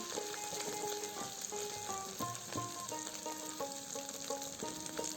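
Ginger and ground cumin, coriander, turmeric and chilli powder fry in a pot for khichuri with a soft, continuous sizzle, faint and steady beneath a recurring tonal background melody.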